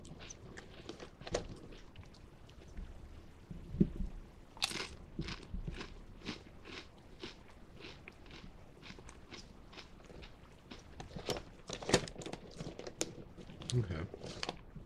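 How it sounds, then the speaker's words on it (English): Crunchy ridged, orange-yellow flavored chips bitten and chewed up close, with sharp crunches and a burst of louder bites partway through, then faint chewing. Quiet overall, with brief low talk in the background. "I have a nice bite, nice crunch."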